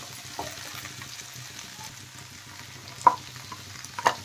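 Spice paste fries with potato and drumstick pieces in a pan, a soft, faint sizzle under quiet stirring, broken by two sharper spoon clinks near the end.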